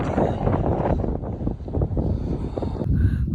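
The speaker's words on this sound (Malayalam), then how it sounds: "കാറ്റുണ്ട് ഇവിടെ." Wind blowing across a cold mountainside trail, a steady low rushing buffet against the microphone that rises and falls without pause, close and fairly loud throughout.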